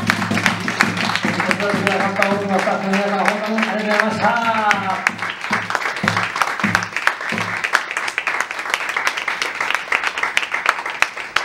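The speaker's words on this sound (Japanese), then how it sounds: "伊関さんの大きな拍手を。" Audience applause at a live music show, sustained dense clapping that continues under a voice speaking, with sung or drawn-out vocal tones early on and sharp individual claps cutting through.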